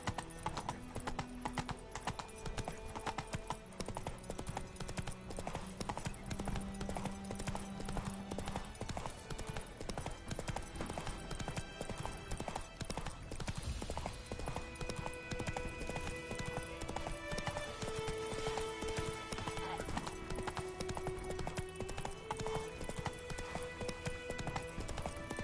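Roach the horse's hooves clip-clop steadily in The Witcher 3, a continuous rhythmic trot that runs throughout, with occasional whinnies and game music and ambience underneath.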